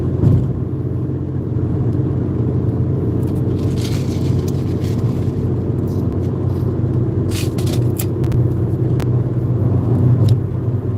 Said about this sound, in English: I just like to go live when I'm driving.